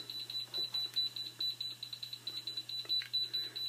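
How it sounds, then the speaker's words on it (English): A tankless electric hot water heater beeps with quick, high, evenly spaced tones that repeat continuously, fairly faint and close, over a low steady hum. "should I just turn off the unit and not just be beeping like that?"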